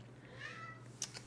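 A cat gives a single soft meow, faint and fairly distant, over a quiet indoor background hum.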